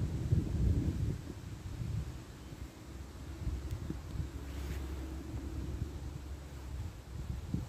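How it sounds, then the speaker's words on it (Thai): A cold wind blows steadily outdoors among trees, a low rumbling gust with buffeting on the microphone, continuous and fairly quiet throughout. "ลมเย็นค่ะแต่เดี๋ยวเย็นหนาวหนาวเย็น"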